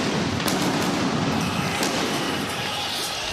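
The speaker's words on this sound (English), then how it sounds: "We got Pyro." Pyrotechnics go off at an AEW Dynamite wrestling show in Atlanta: loud, sharp bursts over a dense, steady roar of arena crowd noise, with the strongest blasts near the start and again a little past the midpoint.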